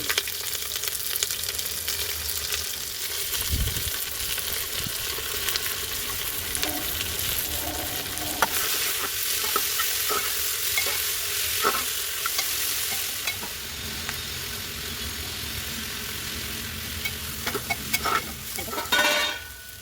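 Onions fry hard in hot oil at an outdoor rooftop picnic cookout while a spoon stirs them through the pan, a loud, continuous sizzle with scraping strokes and occasional clinks, no voices heard.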